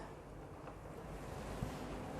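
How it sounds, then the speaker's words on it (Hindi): Water pours steadily from the two outlet pipes of a Kangen water machine into a mug, a faint, continuous wash of running water with no talk. "ये दोनों पाइप से पानी निकल रहा है"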